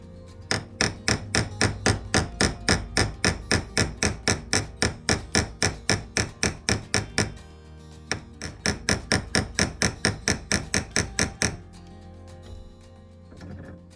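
Rapid, steady metallic hammer blows ring out close by as a pin tip is mushroomed on a custom Swiss Army knife, a long run of evenly spaced strikes, a brief pause, then another burst before it falls quiet.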